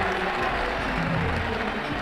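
A simulated cricket crowd in Ashes Cricket 2009 applauds a boundary four, steady clapping and murmuring cheers that hold at an even level throughout.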